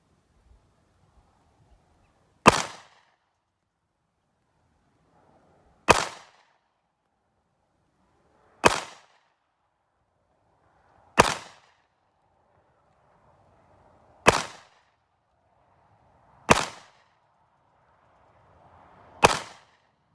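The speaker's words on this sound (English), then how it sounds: "Okay, reloaded the clip. Going for headshots, 25 feet." Single pistol shots ring out at an outdoor shooting range while aiming for headshots at 25 feet, seven sharp loud cracks spaced about three seconds apart, each fading quickly into near silence.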